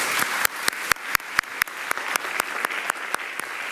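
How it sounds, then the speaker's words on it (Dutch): Small audience at a Dutch lecture event clapping together, distinct sharp claps in a quick, fairly even rhythm from a modest crowd, close and clear with no talk. "Een applaus."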